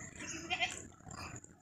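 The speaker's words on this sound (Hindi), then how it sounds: "ये मक्खी चीनी बकरा है" A Makhi Cheeni goat kept for sacrifice gives a short, close bleat against a faint background of outdoor noise, lasting under two seconds with no talk over it.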